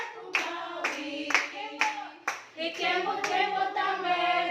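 A church congregation claps hands in rhythm along with a Tagalog worship song. The sharp, regular claps come through clearly beneath the singing voices, fairly close.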